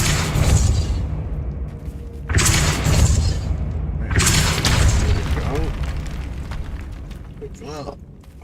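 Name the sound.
Depulso spell effect in Hogwarts Legacy video game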